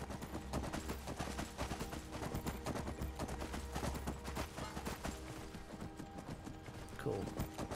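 Horse hooves clip-clop steadily and loudly in Skyrim Anniversary Edition, ridden on a snow-white horse, a dense rapid rhythm over a busy game soundscape with faint battle-like cracks.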